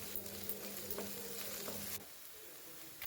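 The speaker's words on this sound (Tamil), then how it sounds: "சேர்த்து நல்லா வதக்கி விட்டுருங்க" Onions and a sprig of curry leaves sauté in a pan, a soft steady sizzle with a few stirring scrapes, the hiss dropping noticeably quieter about two seconds in.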